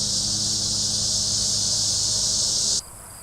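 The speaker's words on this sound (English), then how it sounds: "The classic late summer sounds of cicadas are in full swing" Annual dog day cicadas buzzing in late summer, a loud continuous high-pitched drone that holds steady and then cuts off abruptly near the end, alone without talk.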